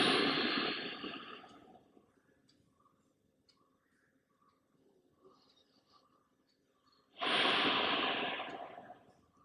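Slow, audible breaths during a yoga posture for ankylosing spondylitis: a long airy exhale fades into near silence for several seconds, then another full breath swells up, close and soft.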